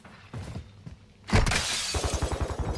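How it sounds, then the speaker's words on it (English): Glass shatters loudly in Call of Duty Warzone 2 on Ashika Island, a sharp crash with a bright tinkling spray, followed by quick thumping footsteps or impacts, with faint game ambience before the break. "I heard the glass breaking."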